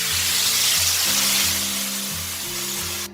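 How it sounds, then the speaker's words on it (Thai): Pork belly frying in a pan with clean water poured in to cover the meat, a steady loud sizzle with a bubbling, hissing wash and low rumbling undertone, continuous and close throughout. "ให้เราใส่น้ำลงไปเลยนะ ให้ท่วมหมูค่ะ"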